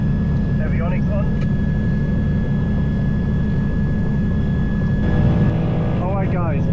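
Twin piston engines of a 1960 Beechcraft Twin Bonanza drone loudly and steadily during run-up power checks, with a constant tonal whine on top and short warbling beeps near the start and end.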